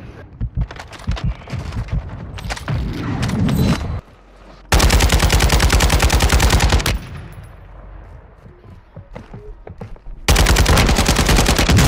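Gunfire in the video game Warzone 2: loud, rapid automatic bursts in two long stretches, close and dominant, separated by a quieter pause with scattered shots.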